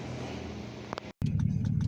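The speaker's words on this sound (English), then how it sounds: "So I got the exhaust cutout put on," 2011 Chevrolet Silverado idling with an exhaust cutout, a low, steady engine rumble broken by a brief cut, then resuming louder and deeper with pulsing exhaust beats.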